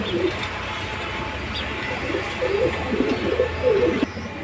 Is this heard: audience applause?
no